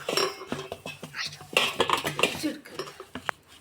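A spoon scrapes and clinks against a bowl as a masala spice mixture with salt is mixed well. The stirring comes in quick, uneven strokes, close and clear, with no talk.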